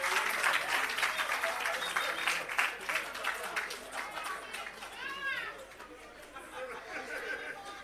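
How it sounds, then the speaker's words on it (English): Applause at the official opening of the Parnassus Agro Park, a crowd clapping steadily and fairly loudly, mixed with chatter and voices, tapering slightly toward the end. "Please give Mr. Reid a round of applause"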